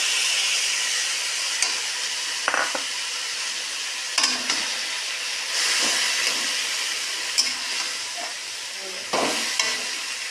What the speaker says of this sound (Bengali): তারপর দিয়ে দেব মাছের মাথা।